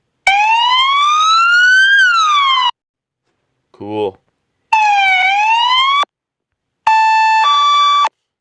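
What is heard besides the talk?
police siren sounds from a siren app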